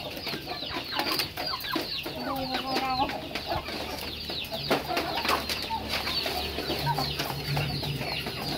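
A flock of chickens clucks and squawks busily while being fed, with wings flapping now and then, a steady close chorus of overlapping calls throughout.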